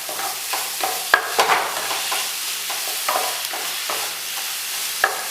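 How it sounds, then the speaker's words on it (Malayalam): Vegetable cutlet mixture with beetroot stirred in a pan, a continuous sizzle with regular scraping strokes of a spoon, a couple of sharp clinks against the pan, close and steady, no voices. "ഇനി നമുക്കിതൊന്ന് നന്നായി തന്നെ ഇളക്കി കൊടുക്കാം"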